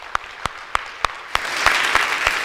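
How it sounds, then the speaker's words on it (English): Applause in a church gathering begins with a few sharp, evenly spaced single claps, then swells into fuller clapping from the audience that grows denser and louder. "How many of you would like to clap about that?"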